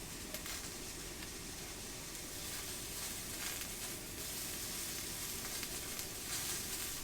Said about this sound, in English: You can hear it sizzling already, and that's how quick it starts getting heat into this pan with this system.